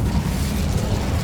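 The Incendio fire spell cast in the video game Hogwarts Legacy, a loud, deep, rumbling burst of flame that roars steadily through the short moment.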